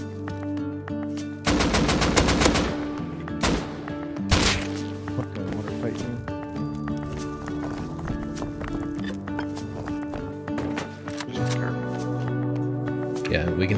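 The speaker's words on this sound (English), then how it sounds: "No, someone's shooting." Gunfire in the survival game Rust during an online village raid, with bursts of rapid shots and scattered single cracks throughout, mixed with steady game ambience while players talk over it.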